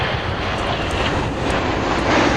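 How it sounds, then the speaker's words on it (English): A Boeing 747 airliner passing low over the airfield at an air fair, a dense, roaring jet rumble that holds steady and swells slightly toward the end, heard at fairly close range. "Probably the lowest you'll see a 747 without its undercarriage down."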